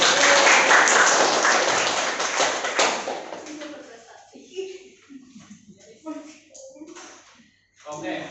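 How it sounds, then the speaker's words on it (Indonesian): Classroom applause during a microteaching lesson on lines and angles, a dense burst of clapping for the first few seconds that quickly thins out into scattered claps and speech. "Beri tepuk tangan dulu"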